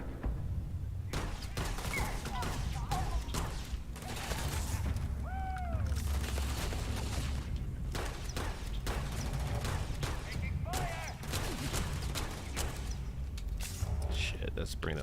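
Rapid bursts of gunfire from a shotgun and other weapons during a Starfield firefight, loud sharp cracks repeating throughout over constant low battle rumble, with talk running beneath.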